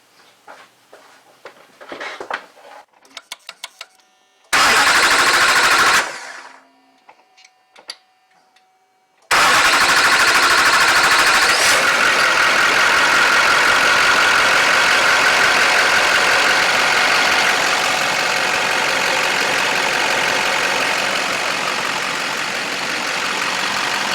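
An LLY Duramax diesel engine, just after a fuel primer pump rebuild, cranks in a short loud burst, goes quiet amid faint clicks, then fires and settles into a steady, loud, close idle that holds to the end.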